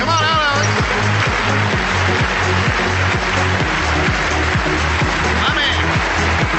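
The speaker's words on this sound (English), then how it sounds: "please do me a favor and give a big round of applause to Mr. Alex Morton" An indoor audience gives a sustained round of loud applause for Alex Morton's entrance at a Go Pro 2022 event, a dense clapping wash over a thumping music beat.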